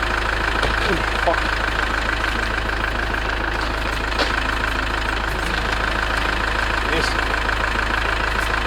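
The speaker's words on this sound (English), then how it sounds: "I'm gonna let the engine run and check if everything seems to be fine" A campervan's engine idles steadily, producing an unbroken mechanical rumble with a constant hum throughout.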